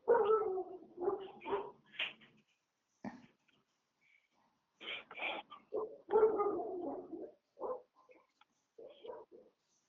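Dogs bark and yip in several separate bursts, some clustered and some spaced apart, sounding fairly faint and distant against an otherwise quiet background.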